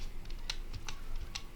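Typing on a computer keyboard, a handful of sharp, irregular key clicks over about a second and a half, close and fairly faint, with no voices.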